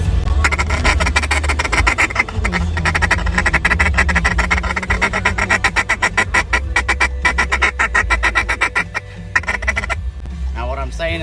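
A duck call blown to imitate a large flock of ducks chattering on the water, delivering a dense, continuous run of rapid quacks and feeding chatter that stays loud throughout the clip.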